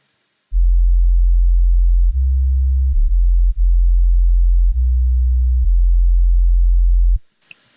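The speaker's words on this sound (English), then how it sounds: "So I made this bass pattern here on my piano." A deep bass pattern played on a piano keyboard for a beat sounds as a sustained, pure low tone stepping between a few notes, loud and steady for several seconds, ending with a faint click.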